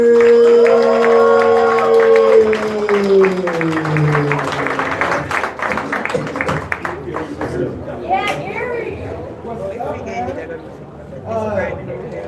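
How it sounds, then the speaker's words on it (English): A comedy club audience claps and cheers for a comedian being introduced as the feature act, the applause building into a dense patter of hands mixed with crowd voices and talk. "Clap it up for Gary."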